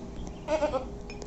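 A goat bought for the Eid al-Adha sacrifice lets out a single short, wavering bleat close by against a low outdoor background hum.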